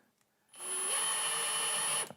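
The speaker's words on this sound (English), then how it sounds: "And then I'm going to put the screws in so it pulls it up flush." A cordless power drill runs in one steady whirring burst of about a second and a half, driving screws to pull a Corvette C7 side skirt flush against the body, with near silence before and after.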